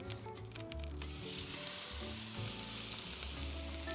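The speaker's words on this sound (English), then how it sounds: "Let me just sizzle this before." A steak sizzles loudly in a hot pan, a bright continuous crackling hiss that swells after the first second and holds steady, with faint clinks at the start and no talking.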